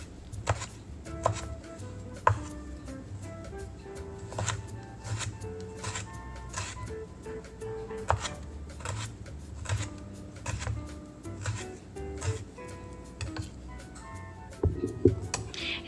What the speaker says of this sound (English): So here we cut the tomatoes into julienne cut, and then we cut them again into small dice.